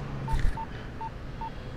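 Phone keypad tones in The Getaway video game sound as a string of short, evenly spaced beeps over soft game background noise, with a brief louder rustle near the start.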